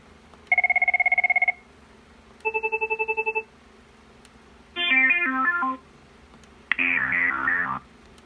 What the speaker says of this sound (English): So let's go over the ringtones that these things have.